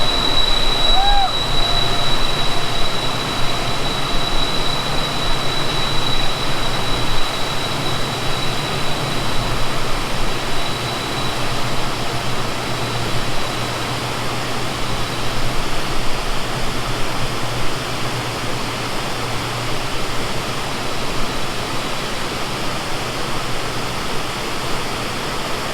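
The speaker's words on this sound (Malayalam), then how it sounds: "വെള്ളച്ചാട്ടം നേരെ അതാ ട്രെയിൻ പോകുന്നു." Dudhsagar waterfall roars in a dense, continuous wash of noise while a passing train adds a low rumble, loud and steady throughout.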